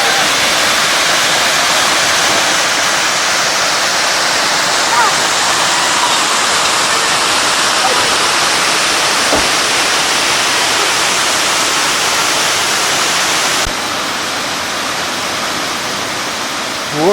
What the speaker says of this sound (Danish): Det er smukt vandfald.